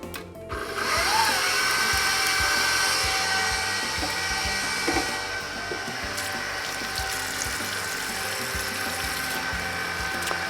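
An electric mixer whirs through molasses cookie dough with a steady, close motor drone and rattles against the bowl. It is loudest at first and then settles into an even hum, with no talk.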